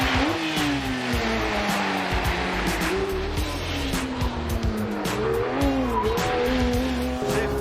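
A Porsche 992 GT3 with its high-revving flat-six engine tears around a technical race track, the engine note rising and falling through gear changes alongside tire squeal, loud and close throughout.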